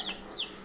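Small chicks chirping in a backyard flock, two short high peeps a fraction of a second apart, close and fairly soft, with no talk.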